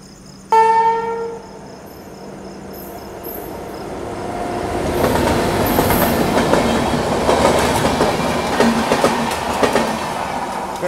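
The Karnataka Sampark Kranti express passes on Indian rails, a steady rumbling roar with clattering wheels that builds and holds, after a short tonal horn-like blare at the start.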